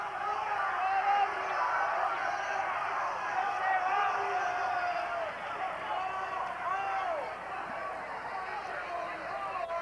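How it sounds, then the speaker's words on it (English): Basketball crowd of Sacred Heart and Holy Cross fans in a college arena, a steady roar of cheering and chatter with whoops rising and falling, filling the whole stretch at a lively level. "Crowd is really getting into it early tonight"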